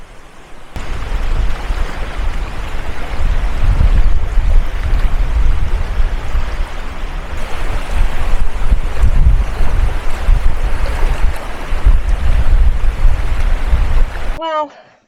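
Strong gusts roar and buffet the microphone on an exposed Scottish coastline, a steady heavy rumble of wind noise that surges and dips for the whole stretch, with surf-like hiss beneath, then cuts off abruptly at the end.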